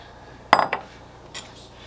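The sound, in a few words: mixing milk and egg into potato boxty batter in bowl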